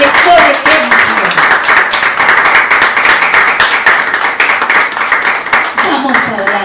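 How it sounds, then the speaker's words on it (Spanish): A church congregation claps loudly and briskly in a dense, continuous round of applause, with voices calling out over the clapping. "Dale un fuerte aplauso al Señor"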